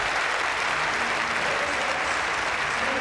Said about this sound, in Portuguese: você ouviu o aplauso e a vibração da galera